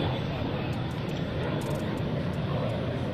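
A fixed-wing airshow aircraft flies a slow roll at the 2004 NAS Oceana Airshow, heard as a steady, broad engine roar held at constant loudness throughout, with a commentator's voice faintly mixed in.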